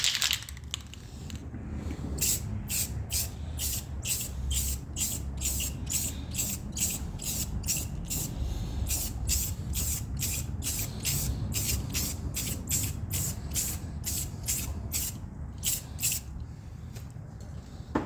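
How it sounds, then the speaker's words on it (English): Rapid bursts of aerosol clear coat spray hiss in a steady rhythm onto a 2011 Lotus Evora headlight, short pulses repeating dozens of times over a low background hum, close by. "we're just going to go ahead and spray another light coat on here"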